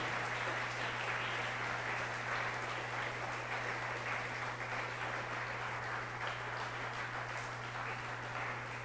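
Church congregation offering applause during a worship service, a steady dense roar of clapping from many people over a constant low electrical hum, sustained without break.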